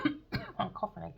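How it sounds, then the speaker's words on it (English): A person coughs several times in quick succession, short harsh bursts with a bit of throat clearing, close to the listener. "I'm coughing again."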